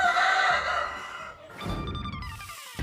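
Chickens and a cockerel kept by a household, with clucking and a crowing cockerel heard close by, mixed calls filling the short stretch with a strained, harsh tone toward the end.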